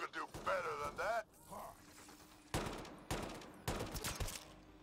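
Gunfire in the sci-fi shooter Mass Effect Andromeda: after a short stretch of talk, three separate sharp bursts of shots crack out in quick succession at close range.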